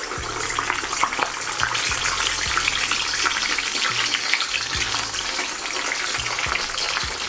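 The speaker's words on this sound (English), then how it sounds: "Alright, so it's gonna be a quick fry until we have a nice crispy, golden color." Chicken pieces deep frying in hot oil on a second fry, a steady loud dense crackle and hiss running without a break, with faint low knocks and bumps underneath.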